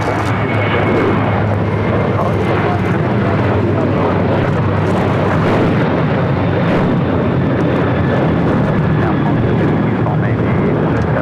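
A jet airliner rolls for takeoff on runway 25 right at LAX, its engines a loud, steady broadband roar that holds throughout, with voices talking over it.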